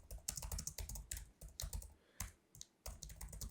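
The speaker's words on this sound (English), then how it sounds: "Type in the authors and narrators." Author and narrator names are typed on a computer keyboard in quick bursts of close, crisp key clicks separated by short pauses.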